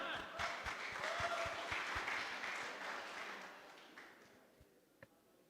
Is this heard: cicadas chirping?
no